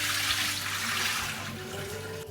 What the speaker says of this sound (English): We drain the rice